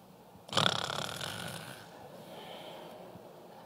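A preacher's voice imitates noisy breathing during prayer, one loud snorting, wheezy inhale that trails off into quieter breath, close to the microphone.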